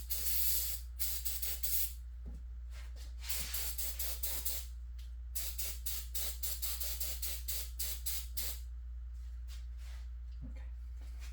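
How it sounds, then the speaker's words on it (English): An aerosol spray can blasts cleaner onto a bike engine cylinder in repeated hissing bursts, short and long, close to the mic, over a steady low hum. "So let me get really close to the cylinder while I spray it"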